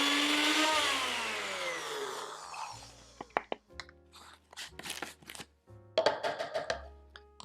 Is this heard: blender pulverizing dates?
yes